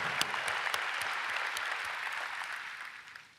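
Distant, moderately faint applause from a large conference audience at a LinkedIn talent event, dense clapping with a few sharp claps standing out, slowly tapering off toward the end.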